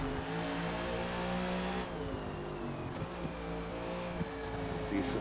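A race car engine in Forza Motorsport, a NASCAR stock car at Indianapolis, drones steadily and loudly with layered harmonics. It dips as the throttle comes off and then rises again, with no talk over it.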